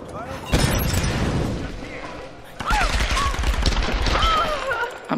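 Bursts of gunfire in the Tomb Raider video game, loud rapid shots in two clusters separated by a short lull, with a player talking over the action.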